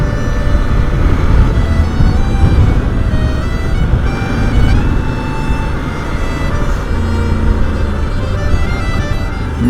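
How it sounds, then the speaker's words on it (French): A CF Moto Ibex 800 motorcycle engine runs at low revs with a slight knock, a steady loud rumble under wind and road noise throughout. "Le moteur cogne un petit peu à bas régime."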